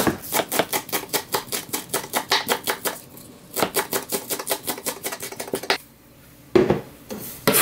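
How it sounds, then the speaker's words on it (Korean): A knife finely chopping green onions on a board: fast, regular tapping strokes in steady bursts with brief pauses, close and fairly loud, no talking. "쪽파든 대파든 뭐든 이렇게 잘게 썰어줍니다."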